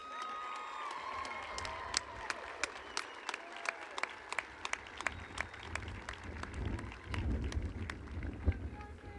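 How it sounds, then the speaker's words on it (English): Audience at a 2017 high school graduation ceremony applauding steadily for about nine seconds, a dense wash of clapping with a few sharp claps standing out and scattered cheers, moderately distant in a large hall. "so let's give them one more round of applause."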